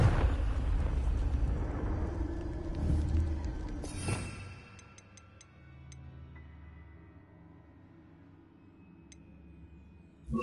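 A Confringo blasting spell bursting in Hogwarts Legacy: a loud rumbling roar that builds, peaks with a sharp blast near the middle, then drops away into a quiet lingering tail with small sparkling pings.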